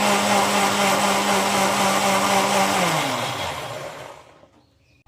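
An electric blender whirs loud and steady while mixing chocolate cake batter with Spanish cocoa and oil, then winds down in pitch and falls silent.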